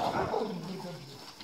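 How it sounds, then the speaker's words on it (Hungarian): Dogs bark on a farm where pigs are kept, several quick overlapping barks and yips close by, fairly loud at the start and easing off, with a voice faintly present. "Ott a kutyák."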